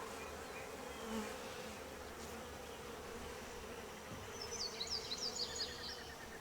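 Honey bees buzzing around hive frames during a first-week inspection, a dense continuous buzz from many bees close by, with a few brief higher whines passing near the end.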